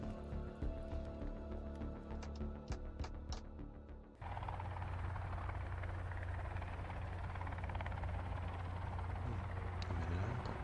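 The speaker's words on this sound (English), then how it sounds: "I'm in an helicopter." A helicopter in the survival video game Sons of the Forest makes a steady, droning rotor and engine whir that holds constant for several seconds after a short burst of other game sounds.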